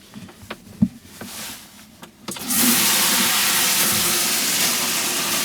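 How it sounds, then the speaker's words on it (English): A shower runs inside a 2001 VW T4 Autosleeper Clubman camper with a fibreglass shell, opening with a few clicks and knocks before a steady, loud hiss of spraying water takes over and continues evenly to the end. "Bit difficult to operate the shower, but I can assure you it does work."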